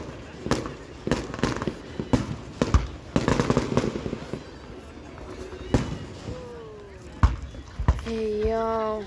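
Fireworks burst into balls and rings, a string of sharp, close booms and crackles at irregular intervals, followed near the end by rising whistles, with excited voices talking over them.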